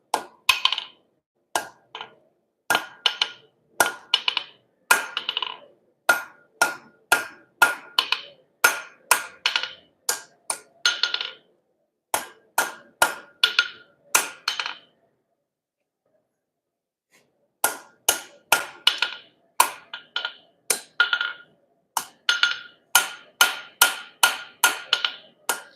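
Metal is hammered on the end of an anvil in sharp, ringing blows that come in quick bursts with short pauses, and there is one longer silent gap midway.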